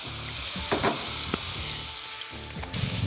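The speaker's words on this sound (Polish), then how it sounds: "i od razu na niego wrzucamy niniejsze dodatki. Uwaga, bo pryska trochę." Fried rice ingredients hit hot fat in a pan and sizzle loudly and continuously, with brief stirring scrapes breaking the hiss, close up and without talking.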